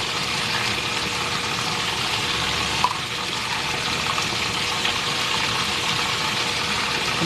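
Washing machine filling with water on a super wash setting: a steady, loud rush of running water pouring into the drum, continuous and unchanging throughout, with no voices.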